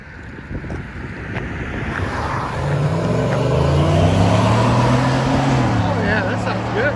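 A Chevy Silverado 5.3-liter V8 pickup revs through its aftermarket exhaust outdoors, the engine note swelling and easing back at moderate volume over steady wind buffeting the microphone.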